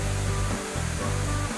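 Florence Falls in Litchfield National Park, a waterfall cascading into a large plunge pool, gives a steady, dense roar of falling water with no voices.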